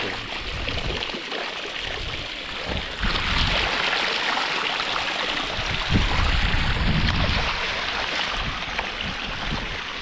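Water from a borewell gushes into a stream beside village fields, a steady close rushing and splashing that holds constant throughout with no voices.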